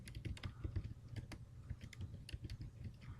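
Quiet computer keyboard typing as a chart title is entered, a run of quick, irregular key clicks with brief pauses, heard alone without speech.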